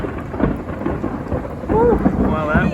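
Thunder rumbles through a lightning storm with rain, a low continuous roll that swells louder in the second half, over steady rainfall and without speech.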